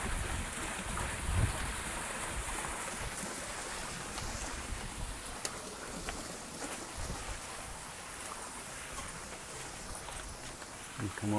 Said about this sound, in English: You've got this water cascading down through here.